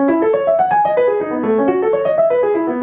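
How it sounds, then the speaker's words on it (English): Rapid running piano notes with no sustain pedal rise and fall in crisp, detached patterns, each note short and dry rather than ringing together. "if I play with no pedal, it sounds like this."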